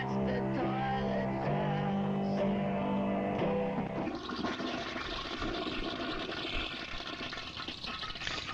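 An old toilet flushes in a song recording, starting with tonal musical notes before a rushing, gurgling surge of draining water takes over for several seconds, moderately loud.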